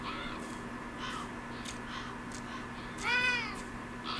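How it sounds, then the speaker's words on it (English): A cat meows once near the end in the Beyond Eyes video game, a short rising call over a steady hum of wintry ambience with faint scattered sounds earlier. "I heard the cat."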